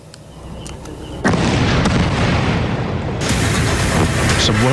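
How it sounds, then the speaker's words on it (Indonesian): Israeli airstrike explosion at a Gaza refugee camp at night: a sudden loud, broad blast erupts after a quieter opening and keeps roaring and rumbling, swelling again toward the end, with no clear speech. "Sebuah ledakan yang berasal dari serangan udara Zionis Israel kembali menyiksa warga Gaza, Palestina"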